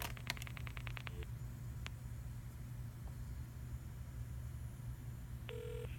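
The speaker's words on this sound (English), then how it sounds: "if you dial 0, you get an error" Dialing 0 on a Stanford dorm telephone gives a quick cluster of short tone beeps and clicks, a lone click, then a steady tone near the end, all faint over a low electrical hum.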